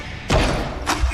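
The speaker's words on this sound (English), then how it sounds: "A basketball going off the backboard and in." A basketball banks off the backboard and drops in, making a sharp close thud followed by a second, softer bounce a moment later.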